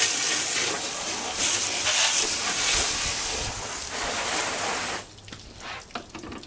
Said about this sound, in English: I rinse out the mirror really good.